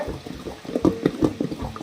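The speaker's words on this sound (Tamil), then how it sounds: "கொஞ்சம் தண்ணி ஆட் பண்ணிக்கலாம்." Water is poured into fenugreek idli batter in a home kitchen, a soft splashing and trickling with small gurgling blips, close and moderately quiet.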